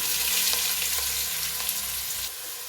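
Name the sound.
sliced onions frying in hot oil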